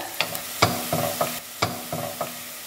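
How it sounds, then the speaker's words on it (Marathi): Onions frying in a pan for a Goan egg curry, with stirring scrapes and a steady sizzle that comes in several distinct bursts, close and moderately loud, with no voices. "कांदो आमी फ्राय करूया लायट गोल्डन इन कलर"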